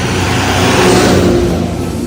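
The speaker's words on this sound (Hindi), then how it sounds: "देखो ट्रैक्टर कितना तेज जा रहा है" A tractor speeding along a road, its engine roaring loud and close as it drives past in a continuous revving drone.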